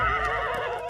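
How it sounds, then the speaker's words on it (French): A wild horse in a French animated cartoon gives a short, loud, wavering whinny lasting about a second, with no talk over it. "Les hommes vont capturer les chevaux sauvages."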